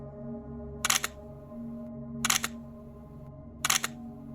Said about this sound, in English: The sound of a shutter snapping, over and over, but no one's there.